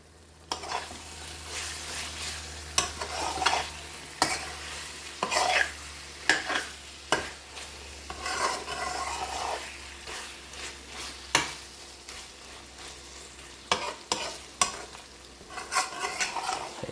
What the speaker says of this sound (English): I'm going to add the kasuri methi to the dish. Just stir it in.